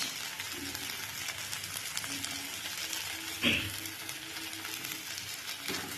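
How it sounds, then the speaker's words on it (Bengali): Spices with Kashmiri chilli and salt frying in hot oil in a pan for a Bengali fish curry, a soft steady sizzle with one sharp metallic clink of a utensil midway. "এরপর মশলাটাকে আমি ভালো করে কষিয়ে নেব"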